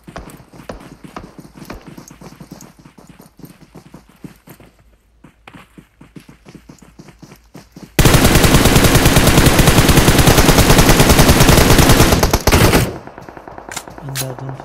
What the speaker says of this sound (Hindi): अंधाधुंध फायरिंग की यार मम्मा साहब को फुल पड़ गया